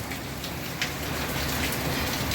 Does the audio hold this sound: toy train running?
no